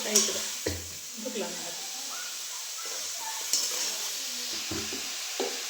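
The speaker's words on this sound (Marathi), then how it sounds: "ह्या देठ चांगलं हलवून घेतलं" Amaranth stalks are stirred in a hot pan, giving a soft sizzle with intermittent clinks and scrapes of the spatula, close and moderately quiet, with faint voices in the background.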